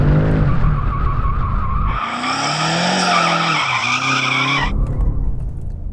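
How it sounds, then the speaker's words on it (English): An all-wheel-drive BMW M5 CS is pushed hard, its tires squealing in a loud, sustained skid over the engine roar, with the squeal rising and wavering before the engine note returns. "I've jumped into the M5 CS, so I've got a bunch more torque, but I've also got a bunch more weight and standard fit all-wheel drive."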